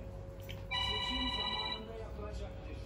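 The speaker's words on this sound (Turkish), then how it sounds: "Bırak çalsın telefonumuz." A telephone rings once with a bright electronic tone lasting about a second in a kitchen during cooking, heard faintly under low background noise.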